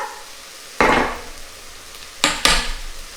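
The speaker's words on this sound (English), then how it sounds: "Give that a bit of a stir around." Vegetables coated in smoked paprika get stirred around a pot for a vegan Tuscan bean soup, giving a soft sizzle and scrape at the start, then two quick clinking stirs near the end, close and alone without talk.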